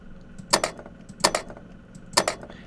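A pinball bumper effect in Visual Pinball X 10.7, three bright metallic double-hits spaced evenly about three-quarters of a second apart, crisp and close over a quiet background.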